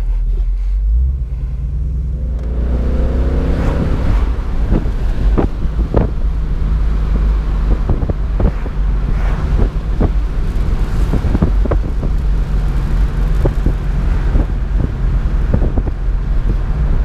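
A 2017 Ford Mustang GT California Special convertible driving with the top down on a sunny day in Pittsburgh: a loud, steady low engine and road rumble laced with heavy wind buffeting, and no one speaking.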